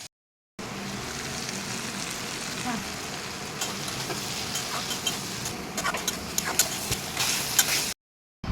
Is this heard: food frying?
yes